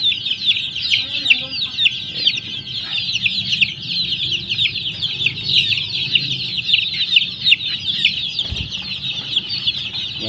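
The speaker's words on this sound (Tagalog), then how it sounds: "21 days old mga ka-breeders ang aking mga manok na" A dense chorus of high, rapid peeping and soft clucking from many 21-day-old game-farm chicks, constant and close, with occasional bumps and rustling.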